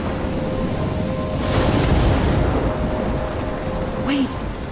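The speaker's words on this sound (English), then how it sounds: "I'm trapped in a storm." A thunderstorm in the Life Is Strange video game: steady pouring rain with a low rolling rumble of thunder swelling and fading, with no talking.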